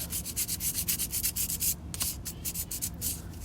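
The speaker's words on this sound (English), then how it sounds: "Let's sand them again" Painted rods are sanded by hand in quick, rhythmic rubbing strokes, each stroke a close, soft, scratchy swish, with one brief pause midway.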